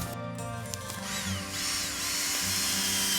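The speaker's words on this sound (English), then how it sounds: "First, a hole is drilled into the trunk" Power drill boring a small hole about one centimetre wide into the trunk of a young tree, a steady whining motor with a rising pitch, close and continuous, no talking.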